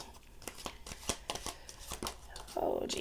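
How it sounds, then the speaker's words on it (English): A tarot card deck is shuffled by hand in a run of quick, crisp riffling clicks and slaps at close range, with a voice speaking faintly beneath. "So I'm just going to shuffle the deck here."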